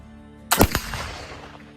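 Black powder made with cottonwood charcoal fired in a test shot: a sharp, loud gunshot-like crack followed by a quick second report and a decaying rumble, with no talk.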